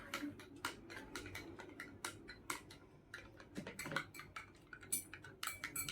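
A spoon clinks rapidly and irregularly against a glass or bottle while milk powder is mixed into milk, a quiet close string of sharp taps with no talking.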